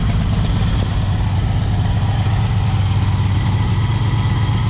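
A 1964 Pontiac Catalina V8, a barn find run after 30+ years, idles loudly up close, a rough, throbbing rumble with a raspy, uneven exhaust note from a broken-off pipe on its dual glasspack exhaust.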